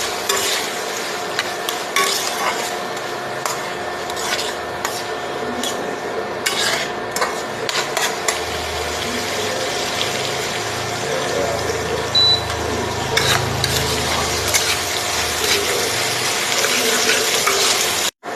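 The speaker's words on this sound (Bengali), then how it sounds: "কুচানো পেঁয়াজটা আমি ভালো করে ভেজে নেব।" Chopped onion and green chilli fry in a pan, a steady sizzle broken by repeated spatula scrapes and clanks against the metal, with a person speaking at times over the cooking.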